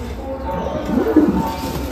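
A male Fulshira Madrasi pigeon coos close by in a loft, low soft throaty calls swelling in the middle against a steady background hiss, with no talking.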